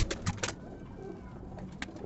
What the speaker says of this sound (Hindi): ये देखिए भाई पंजाबी कबूतर